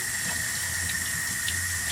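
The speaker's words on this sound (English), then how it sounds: "So just run the water, get it going warm a little bit." Warm tap water runs steadily from a faucet into a sink while dug glass bottles are being cleaned, a continuous broadband rush with a constant tone, no talking.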